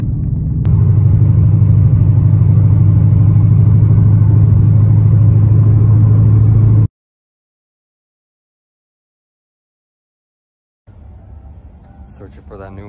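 A 2015 Ford Mustang GT drives on the road with a steady, loud low engine rumble and drone for several seconds, then silence, followed by fainter road noise.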